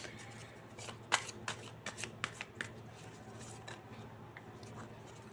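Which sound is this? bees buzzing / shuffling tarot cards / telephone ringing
shuffling tarot cards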